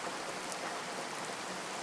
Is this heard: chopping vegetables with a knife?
no